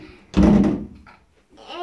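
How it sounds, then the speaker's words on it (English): Closet doors in a home open with a solid wooden thunk, followed by a brief quieter rattle and soft indoor room sound. "These are secret doors open"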